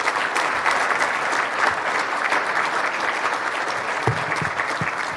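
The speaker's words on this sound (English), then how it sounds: "let's give the Minister and the Parliamentary Assistant a round of applause" Steady, sustained applause from an audience for Ontario's Minister of Energy and the Parliamentary Assistant at a formal event, a dense continuous wash of clapping at even loudness throughout.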